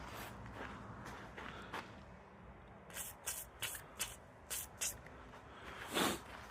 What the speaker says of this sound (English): Let's put some WD on it for it to soak for a bit